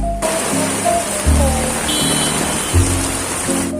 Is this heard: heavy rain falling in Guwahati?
yes